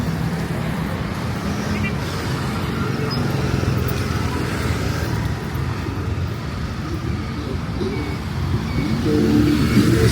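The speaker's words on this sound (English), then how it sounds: "heavy traffic right now." Heavy road traffic in Angeles City rumbles in a steady, dense wash of engines and tyres, with a louder vehicle pushing past near the end, while a person talks nearby.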